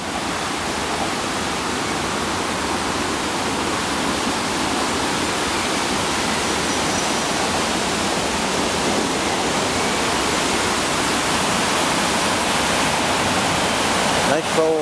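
Water pouring over a river weir makes a loud, unbroken roar, steady and close from start to finish.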